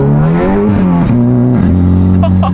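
A Volkswagen Golf R engine revs hard on throttle on a wet road, the loud, close engine note climbing in pitch, dipping at a shift, then climbing again.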